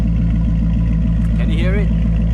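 A Maserati MC Stradale engine idles with a deep, steady, throbbing rumble, close and loud, while someone talks over it.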